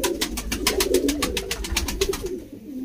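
A pigeon at a pigeon club coos in a close, steady run of soft pulsing notes, with no talking over it.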